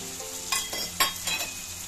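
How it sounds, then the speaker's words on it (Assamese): Potato pieces, chickpeas and coconut chunks fry in a pan with a close crackling sizzle, broken by a few louder bursts as the ingredients are stirred, no talking. "আলুৰ লগত গোটেইখিনি ভালদৰে ভাজি ল'ম"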